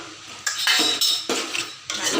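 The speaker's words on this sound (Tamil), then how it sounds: "போட்டுட்டு நல்லா கிண்டி விட்டுருங்க" Tomatoes being stirred in a metal cooking pot, with several scraping, clattering strokes of a utensil against the pot sides, close and fairly loud.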